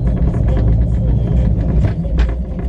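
Sunrider velomobile accelerating, a steady loud low rumble of road and drivetrain noise with no talk, fairly constant throughout.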